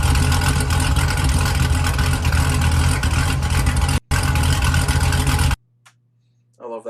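A car engine with a choppy aftermarket cam idles loudly through playback of a recording, its lumpy rumble steady for several seconds, then cutting out abruptly to near silence.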